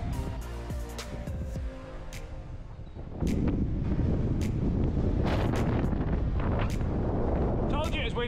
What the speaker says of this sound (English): Told you it was windy.